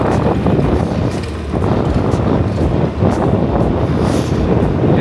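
Heavy wind buffets the microphone during a road trip from Cagayan de Oro to Iligan City in the Philippines, a steady loud rumbling roar that lasts throughout.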